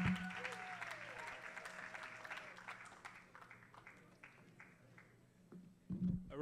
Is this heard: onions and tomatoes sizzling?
no